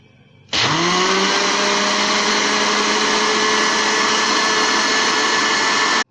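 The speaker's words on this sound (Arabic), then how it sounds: "كل ما بتضربي المكونات كويس جدا في الخلاط" A blender mixing cake batter kicks on abruptly and whirs loudly and steadily for several seconds, then cuts off at the end.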